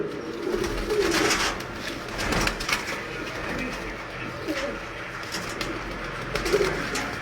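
Sialkoti pigeons kept for sale give soft, repeated coos up close, with wing shuffles and background clatter around them; someone talks briefly.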